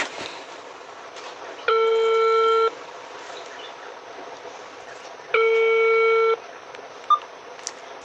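A phone ringing tone sounds twice, each ring a steady electronic burst of about a second, separated by a pause over faint line hiss.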